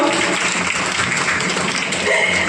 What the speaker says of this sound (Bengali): একটু জোরদার হাততালি হয়ে যাক অসিতদার জন্য।